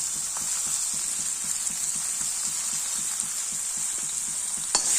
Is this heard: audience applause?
no